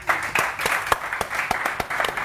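Studio audience applause on a morning talk show, lively rhythmic clapping from a room of people with crisp distinct claps, loud and steady from start to finish.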